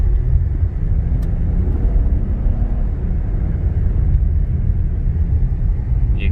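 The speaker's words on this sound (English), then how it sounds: "you can accelerate really quick, even though it's pure snow and ice." An Acura TLX A-Spec SH-AWD on winter tires accelerates over snow and ice, giving a constant, heavy low rumble of engine and road noise heard from inside the car, loud and unbroken, with no talk.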